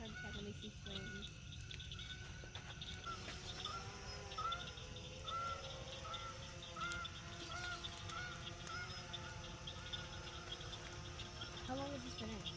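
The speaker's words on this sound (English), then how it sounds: "Get a live shot of the geese coming in." Geese honk repeatedly as a flock flies in at a bonfire night gathering, a string of rising calls at moderate distance over a steady crackle and rumble, with people talking nearby.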